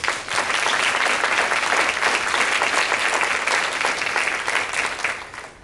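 Audience at a women-in-business forum breaks into loud, dense applause that holds steady for several seconds before tapering off.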